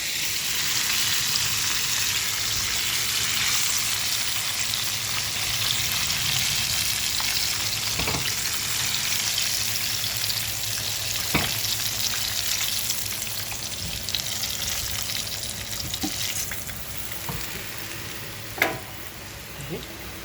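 Chicken kofta frying in hot oil gives a steady, close sizzle and crackle throughout, with a few clinks of a utensil now and then.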